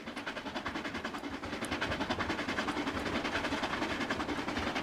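A Royal Mail train passing on a Cornish main line in Trainz Railroad Simulator 2019, a steady rumble of wheels with rhythmic clickety-clack growing louder as it goes by, with no talk.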